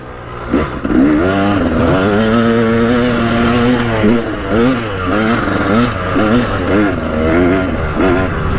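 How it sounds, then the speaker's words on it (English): A KTM 300 EXC two-stroke dirt bike with its standard exhaust silencer revs and rides over a rough, slippery street track, its engine note rising and falling in repeated throttle bursts, loud and close throughout. "going back to this standard pipe, I can hear the difference. Not as loud, I reckon."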